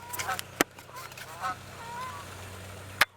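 A goose honks several times, a few short calls close by over a quiet outdoor background, with two sharp broadband impacts from archery blunts shot from a 60 lb bow.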